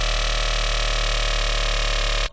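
A sustained drum and bass foghorn bass patch built in Serum, played dry with mixer effects off: one dense, buzzing, harmonic-rich low drone holding steady and loud for about two seconds before cutting off abruptly.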